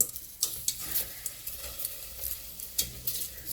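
Garlic cloves stirred in a fondue pot (caquelon) as it heats, with soft scraping and light sizzling, a few sharp clinks of the utensil against the pot rising above the low, steady background.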